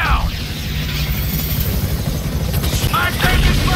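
A GTA 5 helicopter's rotor throbs steadily and loud through a tense game mission, a dense churning roar with a faint voice briefly surfacing near the end.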